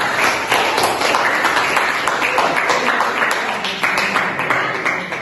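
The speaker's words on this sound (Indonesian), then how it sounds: "Tepuk tangan" Schoolchildren in a classroom clap their hands together, a dense, lively burst of many hands with uneven rhythmic accents, fairly loud and close throughout.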